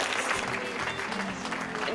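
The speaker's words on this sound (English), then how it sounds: "one more round of applause to every single one of our panelists" An audience at a women-in-science event gives a dense round of applause for the panelists, a continuous wash of clapping with voices and cheers mixed in throughout.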